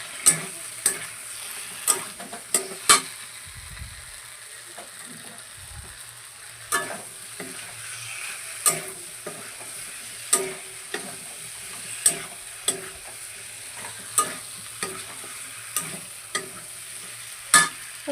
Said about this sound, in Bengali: আর এখানে মিক্সড ভেজের জন্য মশলাটা কষিয়ে নিচ্ছি।